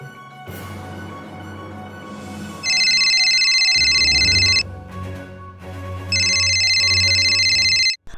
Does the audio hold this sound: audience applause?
no